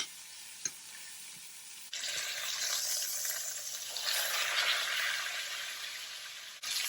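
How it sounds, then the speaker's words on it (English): A sirloin steak sizzles in butter in a skillet while being basted, a close, continuous frying hiss that jumps louder after a couple of seconds and stays intense, with a brief click near the start. "Now I'm going to add my 4 tablespoons of butter, and I'm going to baste it for just a bit."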